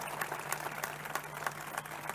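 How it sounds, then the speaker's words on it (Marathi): Audience clapping in a dense, steady patter at a Gudi Padwa gathering and speech, with a low hum running underneath and no voices over it. "एकदा टाळ्या वाजवा."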